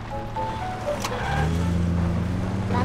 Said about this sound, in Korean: 차소리.